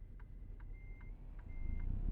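A truck reverses in American Truck Simulator, its backup alarm sounding a series of evenly spaced beeps over a low diesel engine rumble that builds slightly toward the end.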